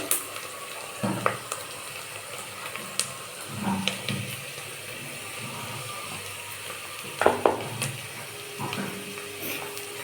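Chopped ginger fries in a pan, giving a low, steady sizzle. A spoon clatters and scrapes against the pan in bursts throughout.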